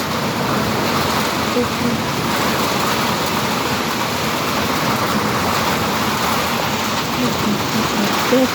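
Steady rain falls without a break, a dense, even hiss at close range that holds at the same loudness throughout with no distinct drops standing out.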